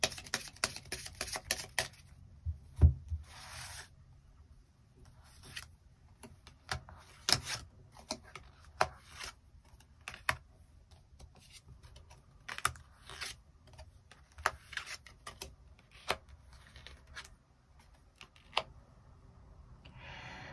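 Tarot cards being shuffled and drawn, close quiet rustles and sharp flicks and taps of card stock landing in irregular bursts with pauses between.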